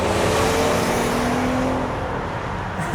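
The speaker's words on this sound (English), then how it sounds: "Let's see how this CVT and V6 do, shall we? Punch it." A 2015 Nissan Murano with a V6 and CVT accelerating hard, a loud, steady engine drone with a rising tone and road roar that eases slightly toward the end, heard from inside the car.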